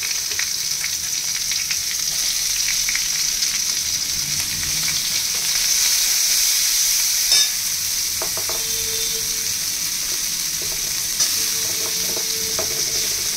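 Onion and green chilli fry in hot oil with a steady, loud sizzle throughout, punctuated by occasional scraping stirs and small clinks of a utensil against the pan.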